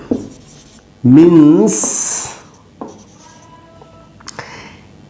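Marker strokes on a board during a Hindi-medium chemistry lesson, scratchy bursts and a short squeaky streak between stretches of a teacher's voice.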